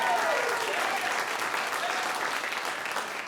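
Audience applause fills a comedy show venue, a dense steady clapping from a crowd that carries on loud throughout and fades slightly toward the end.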